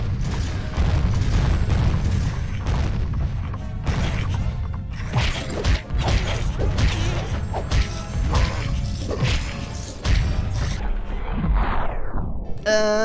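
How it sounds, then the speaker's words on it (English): Cannon fire aboard a pirate ship in The Legend of Spyro, with repeated heavy booms and crashes over a dense, busy game soundtrack, loud and continuous throughout. "Fire the cannon."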